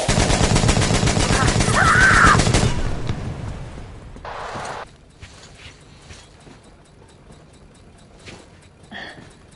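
Rapid automatic gunfire in the video game Metro Exodus rattles loudly for under three seconds, then fades into quieter thumps and a faint ambience.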